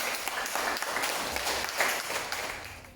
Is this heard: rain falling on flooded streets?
no